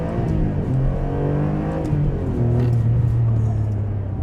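A Ferrari 575M's engine revs from inside the car, a deep, loud rising drone that climbs, settles briefly, then builds again into a sustained, throaty note.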